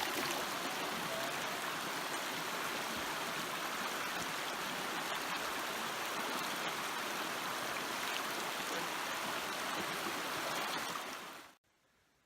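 A stream on a hiking trail on the Eagle Rock Loop flows in a steady, close, broadband rush of water that fills the whole clip and cuts off abruptly just before the end.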